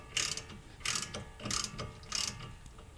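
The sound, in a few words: ratchet removing a tie rod end nut, Honda Odyssey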